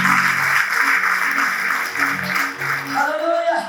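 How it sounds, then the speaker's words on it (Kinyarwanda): A church congregation claps at a Rwandan worship service, a dense, steady wash of applause running throughout with keyboard music and a singing voice layered over it. "Mose mwayikomeye amashyi meza"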